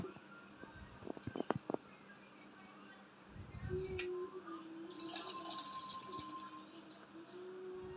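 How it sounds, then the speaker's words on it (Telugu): Water pours into a bowl for mixing cornflour, a soft steady trickle that starts midway and runs on at low level after a few light knocks. "2 గిన్నెలు వాటర్ తీసుకొని"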